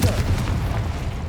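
A Confringo spell detonates in Hogwarts Legacy, a deep booming blast that rumbles low and loud through the whole moment with no speech over it.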